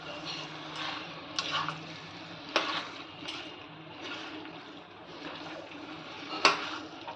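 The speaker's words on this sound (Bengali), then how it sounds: "এবার ভালো করে মাংসটাকে কষিয়ে নিচ্ছি" Chicken curry meat being stirred and fried with little oil and spices in a pan: a quiet, steady sizzle with a few sharper clinks and scrapes of the spoon against the pan.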